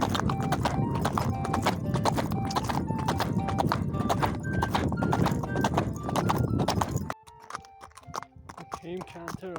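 Horse hooves cantering on a trail, a fast steady three-beat clip-clop close by for most of the stretch, then stopping as a voice calls out.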